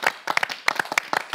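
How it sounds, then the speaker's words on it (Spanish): A church family gathering breaks into a short burst of handclapping from a small group, quick and fairly close, lasting just over a second. "Un aplauso a Natacha."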